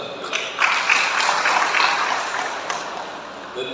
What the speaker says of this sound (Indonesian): Mari kita beri aplaus untuk itu.